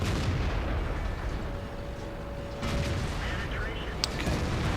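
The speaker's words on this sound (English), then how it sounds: "Okay, puts a shot at me, I put a shot into him." In the World of Tanks video game, tank cannon shots crack out: a dull boom partway through, another sharp report near the end, over steady rumbling engine and battle noise.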